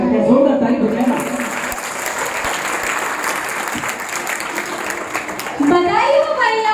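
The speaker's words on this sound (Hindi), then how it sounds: "जोरदार ताली बजाना" Loud, sustained applause from an audience after a dance in a Hindi-language school skit about Jambuswami, a dense continuous clatter of clapping with children's voices mixed in.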